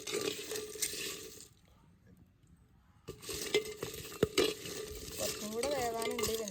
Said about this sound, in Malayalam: അപ്പോൾ അമ്മ അത് വറുത്തെടുക്കുകയാണ് ചക്കക്കുരൊക്കെ.